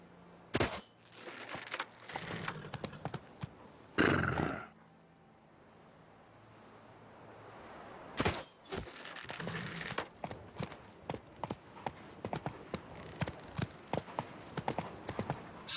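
Hooves of the horse Roach in The Witcher 3 clip-clopping in bursts, slowing to a walk and then picking up again into a rapid run of hoofbeats, with a pause of quieter ambience in the middle.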